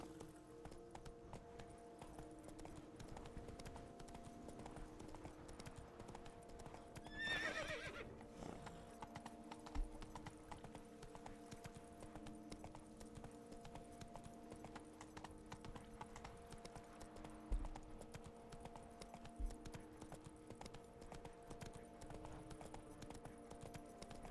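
Steady horse hooves clip-clopping at an even walking pace in the video game The Witcher 3, with a brief whinny partway through and a low ambient hum underneath.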